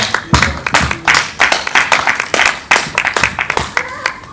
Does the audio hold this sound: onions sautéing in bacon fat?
no